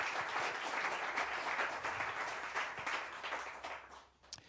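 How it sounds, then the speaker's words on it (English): An audience at a big band concert applauds a Grammy-winning bandleader, a full, lively burst of many hands clapping that gradually thins and fades out at the end. "let's give him a big round of applause for that."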